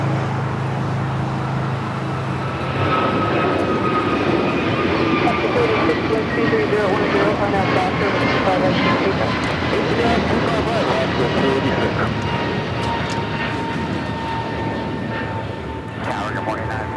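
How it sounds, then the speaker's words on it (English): A United Airlines Boeing 737-900ER jet airliner at LAX gives off a steady, loud engine roar with a whining tone, while a voice talks throughout. "It's United Airlines, flight 1235, coming from Orlando, 737-900 ER."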